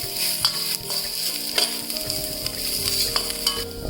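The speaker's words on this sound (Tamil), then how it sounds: "ஆனால் ஃப்ளேமை ஹைலியே வச்சுட்டு எல்லாமே கிண்டுங்க" Vegetables stir-fried on a high flame for fried rice, a loud, continuous sizzle with repeated scraping and clinking of a ladle against the pan, close up, with no voices.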